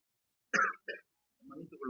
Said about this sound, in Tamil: கொஞ்சம் இருமல் அதிகமா இருக்கிறது